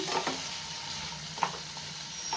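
Potato and capsicum dry curry stirred in a pan after the lid comes off, a steady low sizzle with a few distinct spoon scrapes and taps against the metal, close and quiet, no talking.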